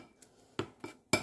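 A utensil scrapes and clinks against a bowl while chocolate praliné cream is stirred, giving three or four sharp, close taps with quiet gaps between them.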